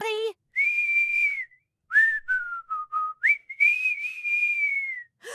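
A clear, close whistled tune, with sustained notes rising and dipping in a short melodic phrase, broken by brief pauses.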